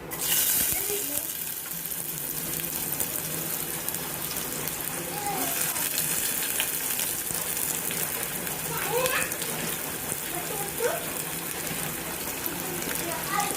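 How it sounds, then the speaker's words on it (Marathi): Onion fries in hot oil in a steady, dense sizzle that runs throughout, with faint background sounds. "कांदा मस्तपैकी आपल्याला छान फ्राय करून घ्यायचा"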